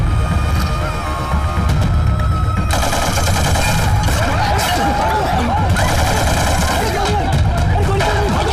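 Rapid gunfire from a movie action scene, bursts of automatic shots rattling loudly and continuously, with a voice and background commotion heard under the shooting.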